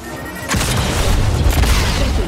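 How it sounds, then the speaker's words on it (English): An enemy salvo in Star Wars Jedi: Survivor erupts after a short lull into a loud, sustained booming barrage with deep rumbling that keeps rolling to the end. "Firing salvo."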